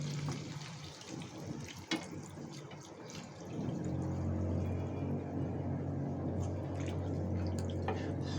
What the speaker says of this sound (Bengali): এখন আমি এর ভিতরে জল ঢেলে দেব। দিয়ে দিচ্ছি পরিমাণ মতো জল।